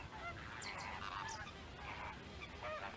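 Greater flamingos calling in the Tagus estuary, a busy flock giving repeated goose-like honking calls over a constant wash of background noise, moderately distant.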